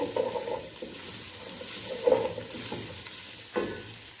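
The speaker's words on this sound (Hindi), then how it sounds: "आधा मिनट में इसको सौते करूंगी।" Vegetables including carrot are stirred in a hot pan for a spicy chicken soup, giving a soft sizzle with a few scraping spatula strokes, fairly close and without talk.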